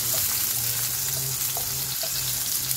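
Potatoes fry in a pan over a medium gas flame, giving a steady, close sizzle with faint crackles that runs unbroken throughout, with no talking.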